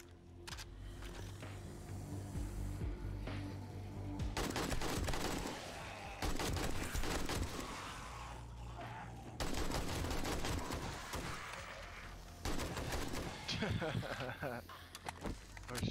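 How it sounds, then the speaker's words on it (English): Machine gun fire in the PC video game Blood Nova comes in several loud sustained bursts separated by short pauses, with someone talking between and under the shooting. "Thank God for machine gun."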